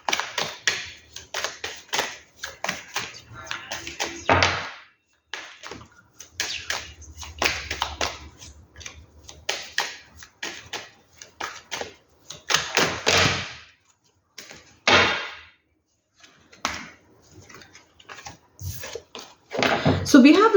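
Tarot cards being shuffled by hand, with irregular bursts of riffling and slapping separated by short pauses, close to the microphone and with no talk.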